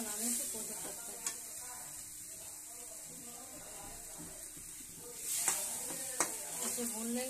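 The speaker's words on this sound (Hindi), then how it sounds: "इसे भून लेंगे 2 मिनट के लिए।" Taro (arbi) pieces roasting in a pan with a steady, soft sizzle and occasional stirring scrapes, plus a couple of sharper clicks near the end.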